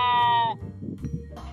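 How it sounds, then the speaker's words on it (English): A loud, close sheep bleat holds for about half a second, then fades into quieter farmyard rustle and a second faint animal call. "I wonder if you can hear the sheep as well."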